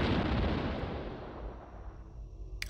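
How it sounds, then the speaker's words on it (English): A close explosion in the video game Despair bursts loud at the start, then its rumbling boom decays and fades over about two seconds. "I heard an explosion very close to here."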